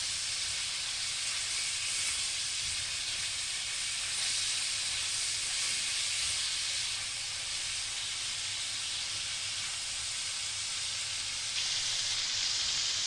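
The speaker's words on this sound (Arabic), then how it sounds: "الفلفل والسبع بهارات، تتحمص مع اللحمة بتاعتنا" Meat sizzling steadily with black pepper and seven-spice mix in a pot for a vegetable tagine, a loud, even hiss that stays constant throughout without any pauses.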